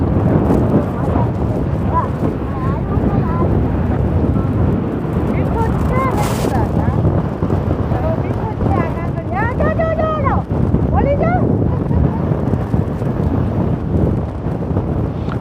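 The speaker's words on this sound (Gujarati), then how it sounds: "પવન બહુ જ છે અહીંયા" Strong wind buffets the microphone in the open Kutch desert, a steady roar for the whole stretch, with people talking over it and a brief whistling tone partway through.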